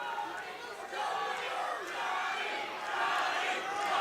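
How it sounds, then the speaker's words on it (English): A sold-out arena crowd at Ameristar in Kansas City roars for a fighter during an MMA bout, a sustained wash of cheering that swells in waves, fairly distant. "The sold-out capacity crowd here at Ameristar, Kansas City is on its feet for Johnny Roades"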